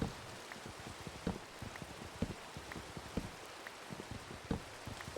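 Rain in the Minecraft video game falls steadily as a dense hiss with scattered droplet ticks and taps, close and alone with no voices.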